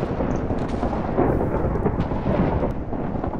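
Rumbling thunder from a lightning strike in Minecraft, a loud continuous low roll filling the whole stretch with no talk over it.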